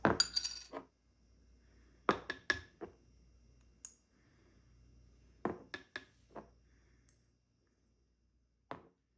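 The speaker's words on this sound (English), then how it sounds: "So I would just pop that lid off the night before and add my spices in." A lid popped off a bottle of orange juice and spices added, heard as sparse, crisp clicks and glassy clinks in small clusters, close and quiet against near silence.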